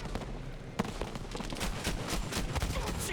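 Bursts of gunfire aimed at aircraft in the Battlefield V video game, rapid cracking shots with one sharp report early on, heard at moderate level over game ambience.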